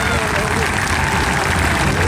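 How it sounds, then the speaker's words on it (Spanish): Crowd applause at a public commemoration event for Evita marking 60 years since her death, a dense steady wash of clapping that fills the whole moment loudly, with voices mixed in. "Sí, fuerte el aplauso."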